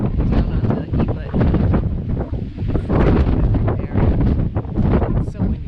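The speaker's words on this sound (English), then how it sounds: "It's so windy out here" Strong, gusting wind buffets the microphone on the Franconia Ridge mountain overlook, a steady loud roar with surges, and a voice speaks faintly under it.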